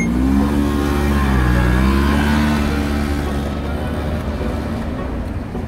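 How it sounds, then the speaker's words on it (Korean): A 2004 50cc motorcycle engine idles and warms up after a kick start, running loudly and steadily with a low, slightly wavering drone close by. "닭다리를 밟고 엔진에 열을 가해줘야지 안 꺼져요"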